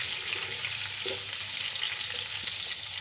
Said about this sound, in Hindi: ये सारे मसाले मिक्स कर देने 2 से 3 मिनट, 5 से 10 सेकंड तक फ्राई कर लेने हैं।